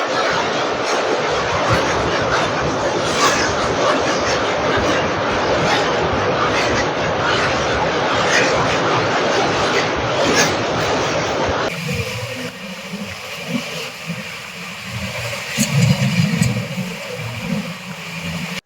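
Darjeeling Mail passenger train crossing the 903-metre Vivekananda bridge: a loud, steady rolling rumble of wheels on track that shifts to a deeper, hollower roar with heavier low thuds partway through.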